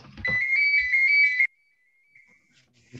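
A mobile phone ringtone plays as a loud, warbling electronic melody for about a second during an online photography class, then cuts off into near silence with a faint lingering tone.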